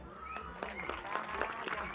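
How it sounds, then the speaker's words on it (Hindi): Audience applause at an event hosted in Calcutta, a dense steady wash of many hands clapping throughout, with voices mixed in. "और इसी तरह तालियां बजनी चाहिए"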